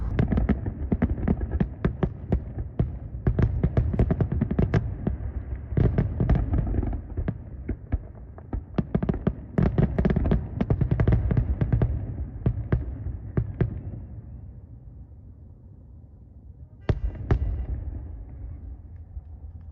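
Fireworks bursting at night, a long run of sharp cracks and booms near and far, irregular and dense, thinning toward the end before a final pair of bangs.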